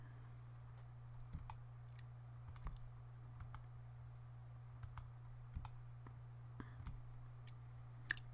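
Scattered keystrokes tap on a computer keyboard while AutoCAD commands are entered, soft irregular clicks over a steady low electrical hum, with no talking.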